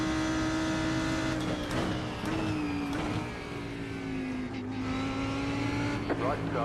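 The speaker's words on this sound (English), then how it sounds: "Fast car approaching." Race car engine in the iRacing game at Monza, a steady high drone that shifts pitch as another car closes in fast, with faint tire noise and a voice talking over it.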